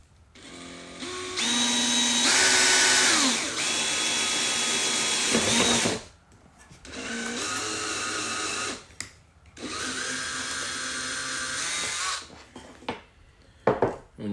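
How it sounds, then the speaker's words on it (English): A power drill boring into metal in bursts, three loud whining runs of a few seconds each separated by brief pauses, with faint clatter at the end. "when you drill metal and you get shavings like that"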